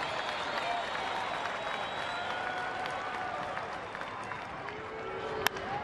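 Baseball stadium crowd at an Angels at Tigers game in Detroit, a steady far-off roar and murmur with scattered cheers and clapping throughout, one brief sharp accent near the end, with no clear talk over it.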